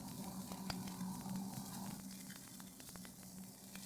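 Ćevapi sausages frying in a pan, a soft steady sizzle with scattered faint crackles and pops over a low hum, quiet and continuous.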